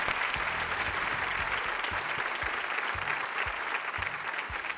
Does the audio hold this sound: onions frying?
no